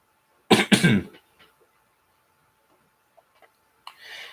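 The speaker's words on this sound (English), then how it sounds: "I have a cough that just starts at this time of night." A single harsh double cough close by, followed by a few faint rustles and a soft breath near the end.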